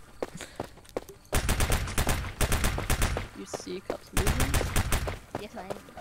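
Rapid automatic gunfire in the Prop Hunt video game: loud bursts of fast repeated shots in two main volleys with short gaps, close and punchy, with faint scattered sounds between bursts.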